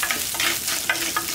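Crushed small onions (shallots) frying in a pan for horse gram kadaiyal, a continuous close sizzle with soft rhythmic stirring scrapes.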